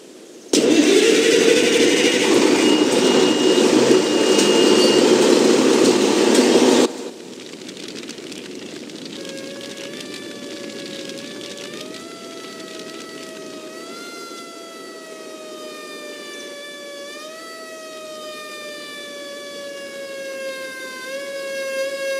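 Emergency 4 fire engine start-up: a loud roaring engine burst for several seconds, then cut off as a wailing siren rises and falls continuously, steady and fairly prominent through the rest.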